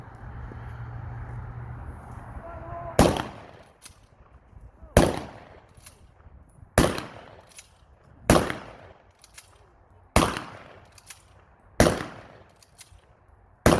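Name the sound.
historical reenactment gun firing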